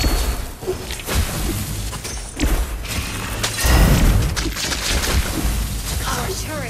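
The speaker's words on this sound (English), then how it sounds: "Our turret has been destroyed." A turret is destroyed in the Mobile Legends game, with loud crumbling booms and shattering debris over dense in-game effects and a swelling mid-clip crash.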